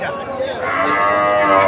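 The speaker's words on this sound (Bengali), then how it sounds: "এই যে বাছুর গরু সব পাওয়া যায়" Cattle moo loudly and close at a busy village cattle market held for Eid al-Adha, one long drawn-out call swelling over a steady background hubbub.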